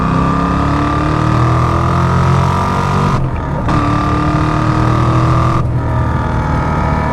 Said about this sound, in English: We'll get into third and we'll get in the throttle a little bit more.